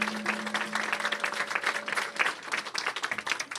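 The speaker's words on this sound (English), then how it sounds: "Let's give them a big round of applause." Audience applause at a mayor's affordable housing announcement, steady dense clapping from a modest crowd, moderately close and continuing throughout with no talk over it.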